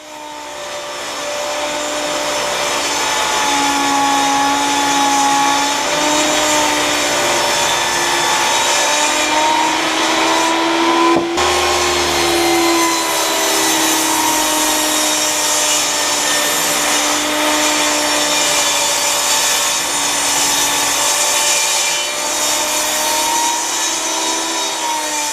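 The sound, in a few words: saw ripping 1x6 wood boards to 4 inches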